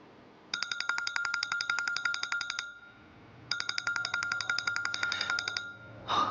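A phone rings in two long electronic bursts of rapid repeating tones, separated by a short pause, loud and close.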